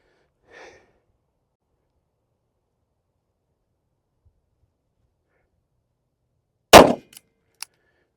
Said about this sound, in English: We're gonna go back 7 yards and just see how it shoots.